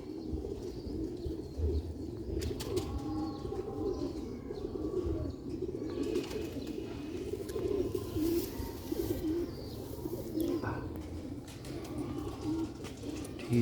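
A pair of Dabaj pigeons coo in a soft, repeated rhythm with a few chirps, close by over a steady background of rustling and ambient noise.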